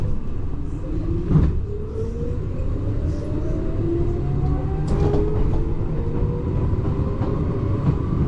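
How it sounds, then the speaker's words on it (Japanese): Vintage electric train in Toyama city with old-style motor lacking inverter control, a continuous rumbling ride with rising motor whine sweeping upward, wheel clatter and occasional knocks, no talk. "モーター音も今時のインバーター制御ではなく、なんか昔の電車って感じですね。"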